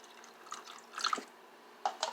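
Liquid being poured into a crock pot of chicken soup, soft splashing and dribbling in a few uneven bursts, fairly close and quiet, with no talking.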